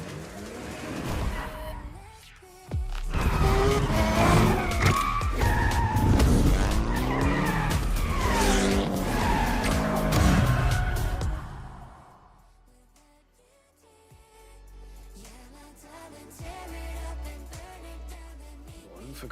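Cars skid and screech through a night street race in Tokyo in the Forza Horizon video game, with loud tire squeals and engine roar for about twelve seconds before it drops to a quieter stretch.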